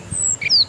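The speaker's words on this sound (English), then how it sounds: "this is the sound of a bird" A bird lets out a couple of short, shrill squawks, close and clear over a faint background hiss, all within less than a second.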